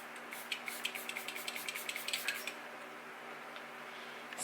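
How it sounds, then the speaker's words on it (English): A quick burst of short, hissy facial mist sprays onto a makeup brush pulses in a rapid series, fairly close and quiet, followed by a pause and a soft bump at the end. "So I'm just going to spray the brush like that much."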